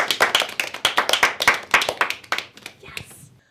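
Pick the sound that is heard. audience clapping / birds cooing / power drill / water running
audience clapping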